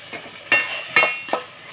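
Ginger garlic paste sautéing in a pan for mutton biryani: a soft steady sizzle broken by three sharp spatula clinks and scrapes about half a second apart, close by, with no voices.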